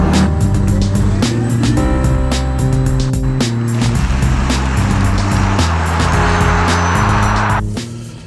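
A 2021 Porsche Taycan RWD electric car drives along with a smooth, rising and falling electric whine over steady road and tire noise, heard from inside, fading slightly at the end.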